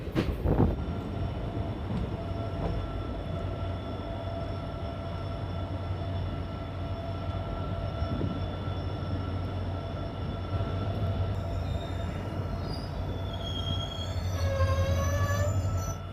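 A diesel-hauled passenger train, the 05421 Malda to Balurghat service, rolls into Eklakhi Junction with a loud, steady rumble of wheels on rails, and a high metallic wheel squeal rises and wavers near the end as it slows.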